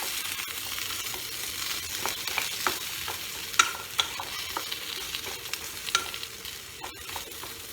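Onion, garlic and green chilies frying in oil in a pan while cooking an eggplant dish, a soft continuous sizzle broken by scattered spatula clicks and scrapes from stirring, with no talk.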